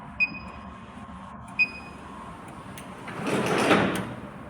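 A pallet strapping machine, an Elephant 009, powers on and runs a test. Two short electronic beeps come first, then a louder whirring mechanical burst near the end. There is no talk.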